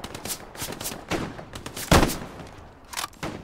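Gunfire crackles in the World War II shooter Hell Let Loose. Several irregular rifle shots pop at middling distance, one much louder near blast stands out, and the rest trail off into scattered shots.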